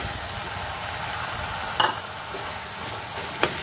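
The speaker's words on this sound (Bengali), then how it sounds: "তো সেই কারণে আমি এবার দিয়ে দিচ্ছি সম্পূর্ণ ডালটা।" Chicken keema and dal sit in a hot kadai with a constant close sizzle, and a utensil clinks sharply twice against the pan; no speech.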